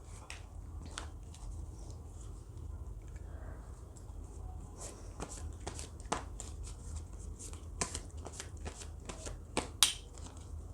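Oracle cards being shuffled by hand: a steady, soft papery riffle and slide running throughout, with sharper card flicks and snaps near the end, close and fairly quiet.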